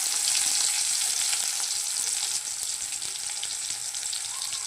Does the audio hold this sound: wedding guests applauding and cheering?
no